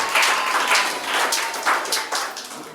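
A church congregation claps in uneven bursts, with sharp, bright hand slaps rising and falling over a few seconds. No voices stand out above the clapping.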